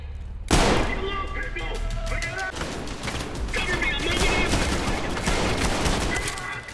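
Rapid gunfire from the first-person shooter Trepang² opens with a loud burst, then continues as dense automatic fire with sharp, fast repeated cracks, while a voice talks over parts of it.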